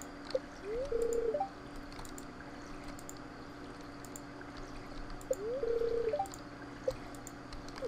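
Watering plants in the Stardew Valley video game: two identical short splashing pour effects, each a brief rising whoosh then a trickle, separated by quiet game background with faint chimes, no talk.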